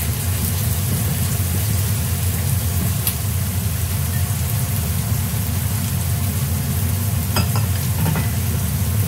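About a cup of chopped onions frying in a pan, a loud, dense, even sizzle over a steady low rumble, with a couple of faint clicks and no speech.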